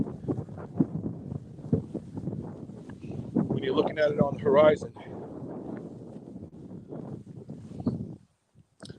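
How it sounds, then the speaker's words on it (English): Wind buffets the microphone with a steady low rumble while a person talks over it outdoors near the sea in Reykjavik in summer. "I know it's windy"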